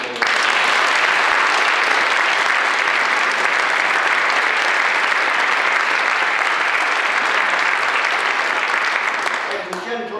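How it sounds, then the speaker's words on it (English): Theatre audience applauding after a stage performance: dense, steady clapping from a large crowd that fills the room, continuing at full strength for ten seconds before easing slightly at the end. "Let's give yourselves a big round of applause."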